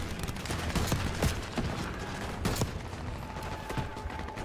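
Rapid bursts of gunfire in Call of Duty: Black Ops 6 crackle and pop almost continuously, with sharp individual shots standing out over a dense, busy battle din.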